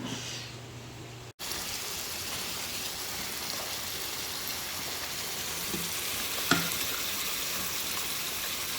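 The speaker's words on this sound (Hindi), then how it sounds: "अब इन टमाटरों को जो है ना मैं मसाले के अंदर डालूँगा जो कि भुन चुका है।" Chopped tomatoes go into already-fried masala for biryani, a sudden break giving way to a loud, continuous hiss of frying with a light clink partway through.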